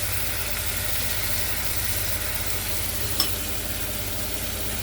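Eggplant steaks soaked in homemade barbecue sauce fry in a pan with a constant, close sizzle and a single small clink partway through.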